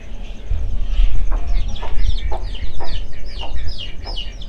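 A farmyard of chickens with a brood of 22-day-old chicks, with repeated clucks and chirps in a steady scatter over a low rumbling background, close by and moderately loud.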